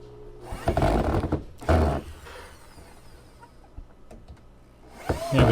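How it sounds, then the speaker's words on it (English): A cordless drill drives a worn screw through a scrap wooden block with a wedge into cedar during a van cabinet build, giving two short whirring bursts followed by quieter handling clatter and a final brief spin of the drill. "I take a piece of scrap block with a wedge and I screw it down"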